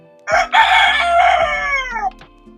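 A Serama bantam rooster gives a single loud, close crow of about two seconds, with a rising start and a long drawn-out finish.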